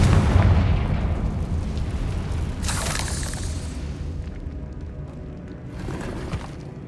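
A Confringo spell explosion in Hogwarts Legacy sets off a deep rumbling boom that slowly decays, with a bright crackling burst about midway and a smaller pop near the end.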